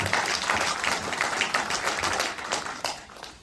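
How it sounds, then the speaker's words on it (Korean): Applause from an audience at a Suncheon stop of a Jeonnam-Gwangju mayoral candidate's political listening tour, a dense, steady wash of many hands clapping for the full stretch, gradually tapering toward the end with no talk over it. "박수 한번 힘차게 쳐주십시오."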